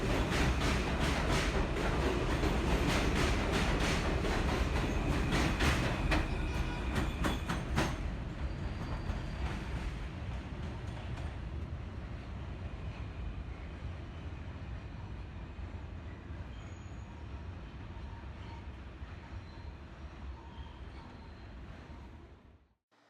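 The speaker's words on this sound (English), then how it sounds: "This is a Queens-bound G train." A Queens-bound G train on the New York City subway rumbles and clatters loudly with rhythmic wheel clicks, gradually easing to a steadier, quieter roar as it slows.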